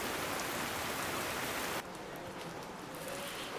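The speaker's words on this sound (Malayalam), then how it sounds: "ഭയങ്കര മഴ" Heavy rain pours down during a thunderstorm, a dense steady hiss that drops slightly in level partway through and continues without talk.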